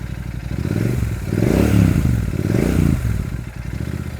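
A Royal Enfield Super Meteor 650 motorcycle's exhaust revs up close, rising into two loud throttle blips over a deep, throbbing idle, with a rumbling, bass-heavy tone and no talking.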